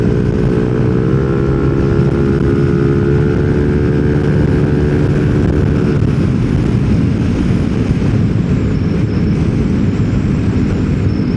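A Yamaha NMAX Techmax scooter fitted with a 4S1M Street Core V3 exhaust drones loud and close, holding a steady revving tone before settling into a rougher, broadband rumble.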